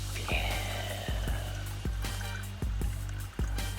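Water trickles and splashes from a water bottle outdoors on a mountain hiking trail, with a light, uneven stream over low steady background noise and a few soft bumps.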